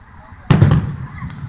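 A sudden loud firework boom followed by a few crackling pops that fade quickly.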